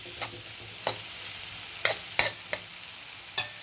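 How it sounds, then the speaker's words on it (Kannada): Elephant foot yam and carrot sauté in a pan under a soft sizzle, with about six sharp spatula scrapes and taps spaced irregularly, close by. "ಇದು ಸುವರ್ಣಗಡ್ಡೆ ಚೆನ್ನಾಗಿ ಬಾಡಿಸ್ಕೊತೀನಿ"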